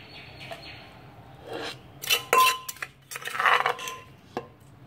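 Mushroom soup being ladled onto a plate, with a few bright clinks and scrapes of a spoon against dishes in irregular bursts over a quiet background, close by.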